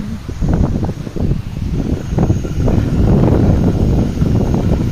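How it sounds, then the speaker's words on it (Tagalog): Strong wind buffets the microphone in loud, continuous gusts during a storm in La Trinidad, a deep roaring rumble that swells and fades with no one speaking. "Ang lakas ng hangin, guys."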